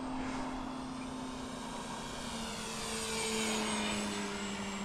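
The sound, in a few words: airplane flying overhead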